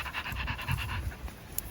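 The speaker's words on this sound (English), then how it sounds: "Happy dogs. You're all happy dogs." A dog pants close by in quick, steady, rhythmic breaths, heard alone and fairly soft.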